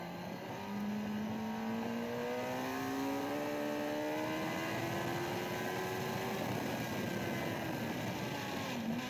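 A Suzuki GSX-R K6 sportbike on track at Donington howls at high revs, its engine note sweeping through several rising pitches with a steady, loud roar and little sign of a pause before the gearchanges.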